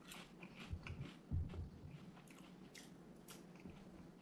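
Salted egg flavoured Lay's potato chips being chewed up close, with soft irregular crunches and bites that are strongest early on, then quieter mastication, faint and with no talk.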